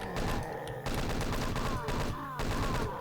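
Chaingun fire in the Doom 2 video game, with sustained rapid bursts of gunfire and short breaks between bursts, loud and dense, with in-game effects mixed through.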